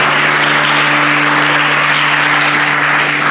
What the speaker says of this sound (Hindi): इनके लिए ताली।